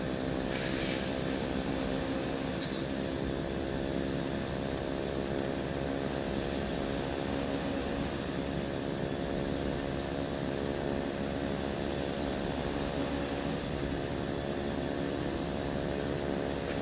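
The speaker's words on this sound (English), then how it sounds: "I love the sound of this engine here." A propeller engine on a general aviation aircraft at Nantucket airport drones steadily for the whole stretch, loud and close with a constant tonal hum and no pauses or voices.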